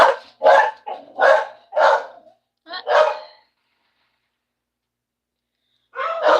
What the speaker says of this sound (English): looks like the dogs are not going to stop.